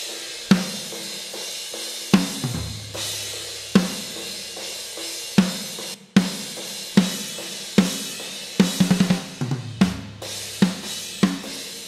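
A metal mix snare drum track blended with overhead microphones: sharp, punchy snare hits at an uneven groove, a few quick flams and rolls, with cymbal wash and low tom or kick sweeps underneath, close and loud.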